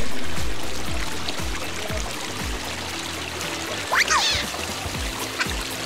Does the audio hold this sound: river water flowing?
yes